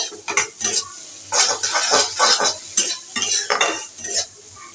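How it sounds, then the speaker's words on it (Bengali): Steady stirring of a frying mixture in a pan just after sauce is added, with repeated scraping strokes and a continuous sizzle, close and fairly loud, some light metallic utensil contact, no talking. "ছসটা দেওয়ার পরে একটু নেড়ে উঠিয়ে ফেলবো"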